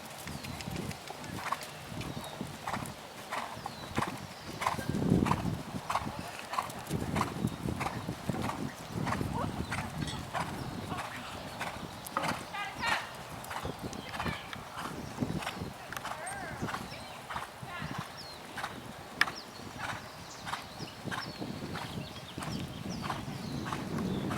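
Horse hooves clip-clop steadily during a riding training session, a quick even rhythm of hoof beats running throughout while people talk over them.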